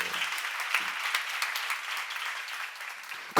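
A church congregation claps together in sustained, dense applause that carries at an even level across the whole stretch and ends abruptly.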